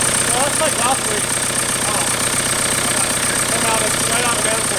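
A TDI diesel engine swapped into a 1991 Toyota pickup runs steadily at idle with an open exhaust straight off the manifold, a continuous rough, knocking drone with people talking over it.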